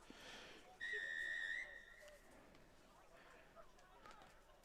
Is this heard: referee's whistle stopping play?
yes